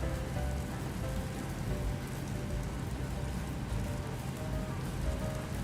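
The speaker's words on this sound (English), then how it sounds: "I love the rain sounds." Steady rain patters continuously over the cockpit of a PMDG 737-800 airliner in Microsoft Flight Simulator, a dense even hiss with low rumbling beneath and faint engine tones, no talk.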